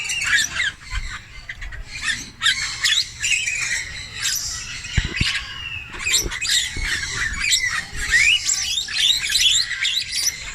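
Red-vented cockatoos squawk loudly and repeatedly in a zoo aviary, harsh screeches overlapping with chirps and calls from other birds throughout, with no talk.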